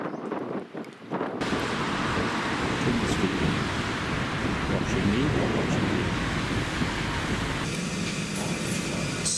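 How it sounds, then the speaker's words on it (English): Gusty wind roars steadily outdoors in the wet aftermath of a storm, with light rain still falling; a broad, loud rushing fills the air almost throughout, after a brief quieter start. "it's windy, there's not quite as much rain"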